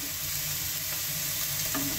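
Onion sautéing with black cumin in a pan, a dense continuous sizzle and crackle heard up close, with a light stir or scrape near the end.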